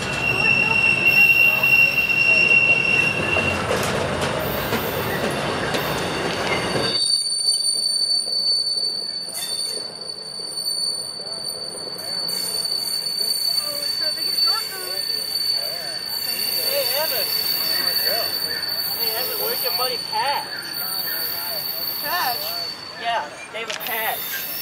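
A freight train rolls past on Eclipse Day 2024, loud and close at first with squealing wheels, then settling into a long steady rumble with high, drawn-out wheel squeals and faint voices underneath.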